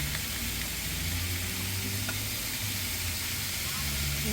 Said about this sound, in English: I love that sizzling sound.